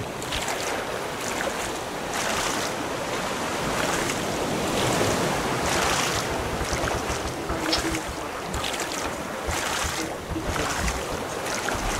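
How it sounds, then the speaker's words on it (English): Paddling a raft across open ocean in the survival game Raft, with steady surf and wave wash, rhythmic water swells and wind noise throughout, no voices. "Okay, Carl, I'm paddling us there."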